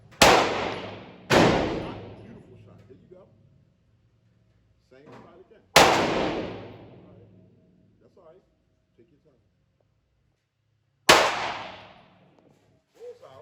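Springfield XD Mod 2 9mm pistol shots at an outdoor range: four sharp, loud reports spaced several seconds apart, each with a ringing decay, with faint voices talking in the gaps.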